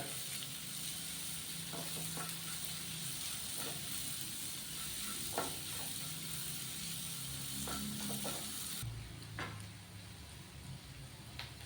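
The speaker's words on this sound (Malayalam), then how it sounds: "ഉള്ളി ഇതുപോലെ ഗോൾഡൻ ബ്രൗൺ കളറാവുന്നത് വരെ വഴറ്റിയെടുക്കുക." Onions sauté in oil in a pan until golden brown, giving a soft, steady background sizzle with occasional faint scraping stirs, quiet and somewhat distant, with no speech.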